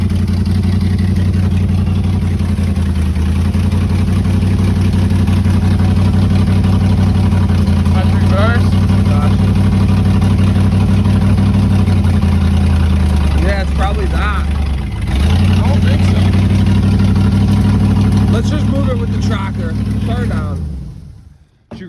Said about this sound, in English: Sounds like she runs good.